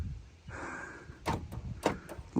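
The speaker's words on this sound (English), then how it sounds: "Door locks work." Power door locks on a 1999 Toyota Avalon actuate with a few quick, sharp mechanical clunks in succession, close and fairly loud over a quiet background.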